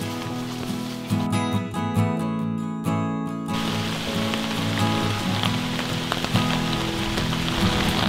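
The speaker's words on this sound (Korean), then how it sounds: "비가 옵니다." Steady rain falls on a surface in the open, a dense continuous patter at fairly close range beside a stream where fish traps are set, with no talking over it.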